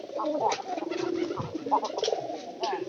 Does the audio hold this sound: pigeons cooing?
yes